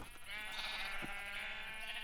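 Sheep in a video game bleat in one sustained, nasal, wavering call that holds for a couple of seconds, clear and close with no talk.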